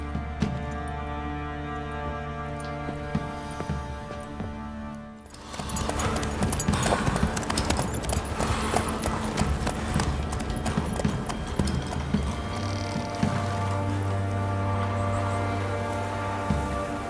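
Roach, a horse in The Witcher 3: Wild Hunt, trots with steady clip-clopping hooves under rain and a swelling musical score, loud and continuous after a brief quieter opening.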